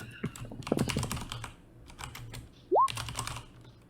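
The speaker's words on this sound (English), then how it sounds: "Let me type it so you have him." Keys clatter in quick, uneven bursts on a computer keyboard, fairly close and crisp, with a brief rising electronic chirp partway through.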